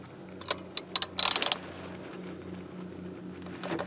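A ratchet wrench works loose the drain plug on a Polaris off-road vehicle during a fluid change, giving a few sharp close clicks and then a quick rattling run of clicks over a low steady hum.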